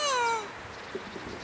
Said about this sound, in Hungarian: Korábban macska makiknak hívták őket a furcsa hangjuk miatt.